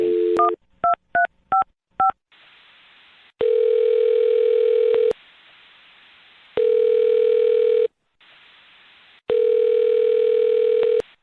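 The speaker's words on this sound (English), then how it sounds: "I'm going to dial her phone number right now" A landline phone gives several quick touch-tone beeps as a number is dialed on a radio show, followed by three long, steady ringback tones with silent gaps between them.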